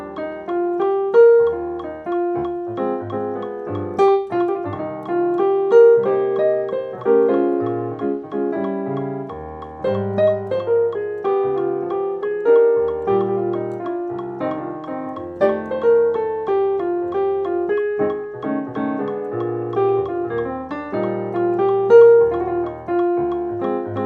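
Jazz piano playing a melody at an up-tempo swing, a continuous flow of single-line melody over chords, clear and close with no voices.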